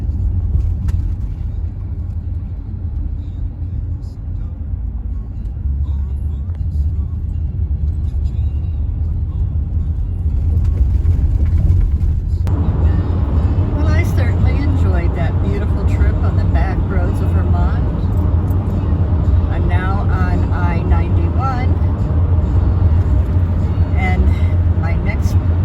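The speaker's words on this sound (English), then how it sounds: "Lots of traffic coming through" Road traffic in a busy town rumbles close by, a low continuous drone of cars and heavier vehicles that grows louder partway through, with a voice talking over it.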